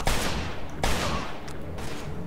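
A police revolver fires in Mafia II, loud close shots at a sharp, uneven pace, three or four sharp reports each followed by a short decaying tail, with no talking.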